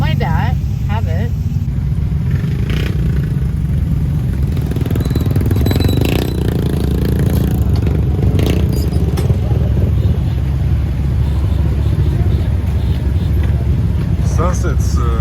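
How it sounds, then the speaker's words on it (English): A low, steady motorcycle engine rumble runs throughout in Malaysia, with voices talking over it and some rattling bursts along the way. "My dad has motorbike."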